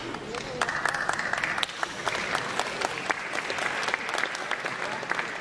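Audience applause at a highlander (góral) music event, dense steady clapping that carries on through the whole stretch, with a voice faintly heard underneath.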